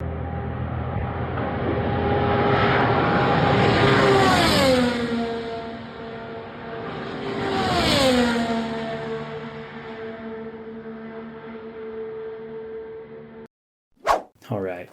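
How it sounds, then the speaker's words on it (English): Indy cars at Indianapolis Motor Speedway during a fall hybrid test: two loud open-wheel engines scream past in turn with a falling Doppler pitch, then a steady high engine drone carries on before cutting off. "let's just take a appreciation to hear the sound of Indy cars in the fall at IMS"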